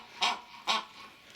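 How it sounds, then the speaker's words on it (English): A raven at an arboretum's bird enclosure gives two harsh, hoarse calls about half a second apart, clear but moderate in level against quiet surroundings. "Sound of the raven."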